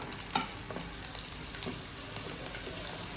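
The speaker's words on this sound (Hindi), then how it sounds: "आलू को अच्छी तरह से हम फ्राई करेंगे" Diced potatoes fry in hot ghee, giving a steady, dense sizzle and crackle with a few louder pops, close up and continuous with no talk.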